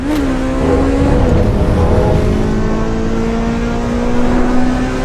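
A Honda VTEC car engine in the video game Assetto Corsa Evo holds a high, sustained rev with a brief pitch drop early on, then drones steadily and loudly; no one speaks.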